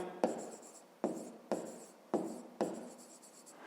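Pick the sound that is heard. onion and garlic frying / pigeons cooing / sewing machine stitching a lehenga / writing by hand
writing by hand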